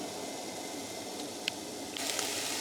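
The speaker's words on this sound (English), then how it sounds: "Starting to sizzle." Salmon fillet with seafood seasoning sizzles steadily in a pan at a campground, a close, even hiss with a couple of faint pops and no talking.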